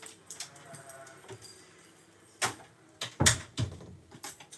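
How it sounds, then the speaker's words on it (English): A room door swings shut with a few soft knocks and a firmer thud near the end, heard close and fairly quiet with no voices. "Okay, door is shut,"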